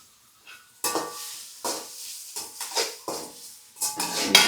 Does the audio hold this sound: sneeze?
no